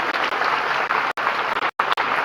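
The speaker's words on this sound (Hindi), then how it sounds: "एक बार और जोरदार तालियां बजाओ।" Loud, sustained applause from a crowd at a women's safety awareness event, dense and even, with a couple of brief dropouts in the sound.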